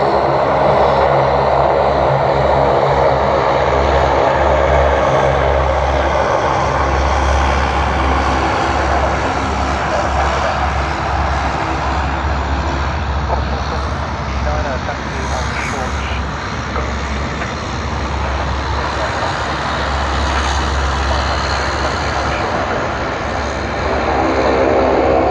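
A United airliner's jet engines roar at Sydney Airport, a loud sustained rumble and whine that swells and eases slightly as the aircraft moves, with voices talking underneath.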